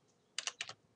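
Quick keystrokes on a computer keyboard, a short burst of about four clicks heard close and alone in a quiet room.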